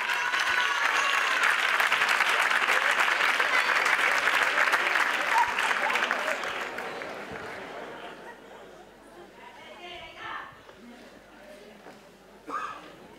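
Loud crowd applause at a carnival proclamation event in San Roque honoring a nymph of the court, sustained for about six seconds before fading into murmuring chatter and scattered voices.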